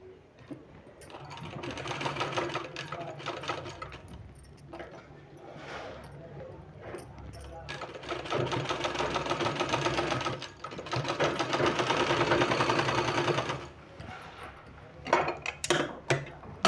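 Sewing machine stitching the seam of a sleeve on a cut garment, a steady continuous whirring hum that runs in bursts with brief pauses and speeds up in places, heard up close with no talking.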